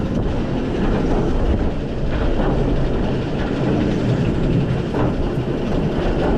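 A roller coaster train with lighter cars runs along its track at Bobbejaanland theme park in Belgium on opening day, giving a loud, steady rumbling roar with rattling clatter throughout, close by and without talk.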